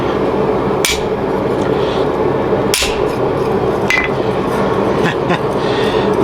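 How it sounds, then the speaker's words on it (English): Hammer blows on a steel chisel while forging and shaping a metal spatula, a few sharp isolated strikes spaced irregularly over a steady background wash. "The benefit of this type of chisel is you can roll it in a line, so you get a straight line"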